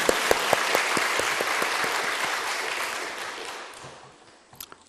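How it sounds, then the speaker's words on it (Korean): A congregation at a church worship service claps in praise, a loud, thick burst of applause that holds steady and then fades away, with a few scattered last claps at the end. "살아계신 하나님께 감사와 영광의 박수 올리겠습니다"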